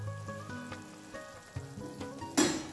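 A bajra bhakri flatbread roasts on a hot griddle with a soft, steady sizzle and light crackle. Near the end there is a brief louder scrape or rustle.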